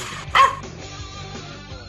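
A single short dog bark or yip rings out near the start, then only low background sound and rumble continue with no further barking.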